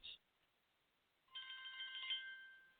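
A telephone rings with a bright electronic ringtone, a brief blip and then a sustained warbling tone that builds, faint and alone in a quiet room.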